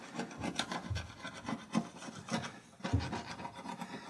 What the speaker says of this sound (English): You take a screwdriver and scrape off the roughness here on the boiling chamber where the float gasket comes through.